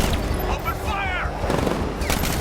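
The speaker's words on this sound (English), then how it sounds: "Come on! Open fire!" Gunfire in Batman: Arkham Knight during a vehicle chase, loud shots and rumbling blasts mixed with shouted voices and a constant engine-like roar beneath.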